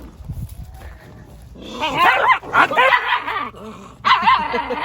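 Anatolian Shepherd puppies bark, yip and growl close by in a rapid series of loud, overlapping bursts, with a low rumbling growl early on before the sharper barking builds.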